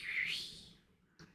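Bird chirping in an album trailer, a single short, bright call near the start that fades quickly, then a brief soft knock.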